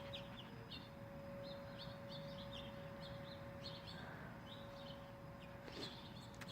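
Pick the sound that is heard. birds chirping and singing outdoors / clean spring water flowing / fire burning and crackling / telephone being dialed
birds chirping and singing outdoors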